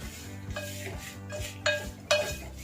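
A spoon scrapes and knocks around a pan as poha chivda ingredients are mixed with turmeric, soft rhythmic stirring with a low hum behind and two sharper metallic clinks near the end, no talking.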